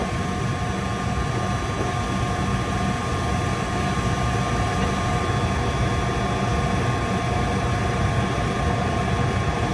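A cold table refrigeration unit runs with its condenser fan motor, a steady loud mechanical hum and airy drone holding constant throughout with no pauses and no talk.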